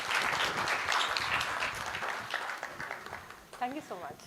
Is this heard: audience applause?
yes